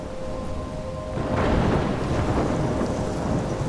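A thunderstorm in Life is Strange Remastered: steady heavy rain swells into a deep rolling rumble of thunder about a second in, then the rain keeps pouring loudly and evenly with no voices.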